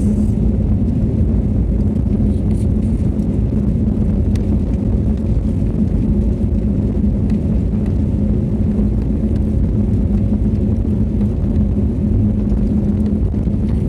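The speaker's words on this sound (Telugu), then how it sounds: "ఇప్పుడే మన ఫ్లైట్కి స్పీడ్ పెరిగింది." Inside a passenger jet on its takeoff roll from Hyderabad, a loud, steady engine roar and low cabin rumble fill the clip continuously, heard up close from within the cabin with no talking.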